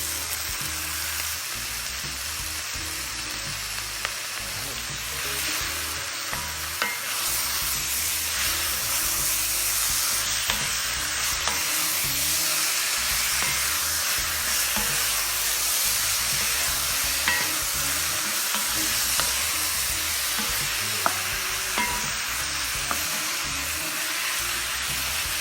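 Lamb cocotte with thyme and tomato sizzling and frying in the pot, a loud, constant crackling hiss that continues without a break.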